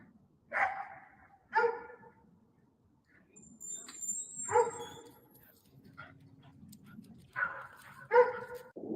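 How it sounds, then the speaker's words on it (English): A dog barks repeatedly in a video being played back, several distinct bark bursts spaced irregularly with whimpering between them, moderately loud over faint background noise. "The dog barking is helpful."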